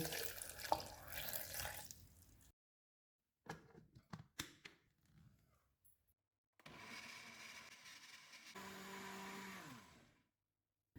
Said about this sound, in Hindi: 1 कप पानी डालेंगे और इनको ब्लेंड कर लेंगे।